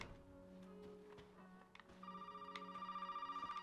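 A telephone rings inside the Resident Evil 7 video game, its repeated electronic bell pulses rising over a steady hum of game ambience and continuing rhythmically to the end.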